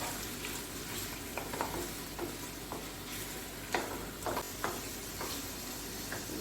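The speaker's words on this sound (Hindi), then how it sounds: "इसको थोड़ी देर इसमें फ्राई कर दूंगी" Beef with its fat fries for haleem in a steady, moderate sizzle, broken by occasional spoon clicks and scrapes against the pan, close up and with no one speaking.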